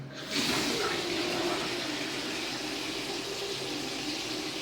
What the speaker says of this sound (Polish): Spróbuję odkręcić ciepłą wodę